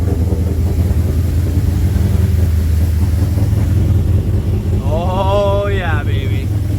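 A Nissan VK56 Japanese V8 idles after an engine swap, a steady low rumble close by with some wind buffeting, and an excited voice cuts in briefly near the end.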